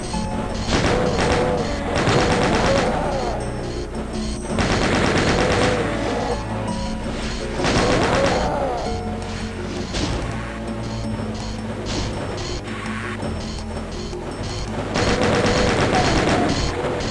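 Super shotgun blasts in a Doom arena map, heavy booming shots repeating every couple of seconds amid constant loud combat noise, crunching impacts and monster chaos, no talking.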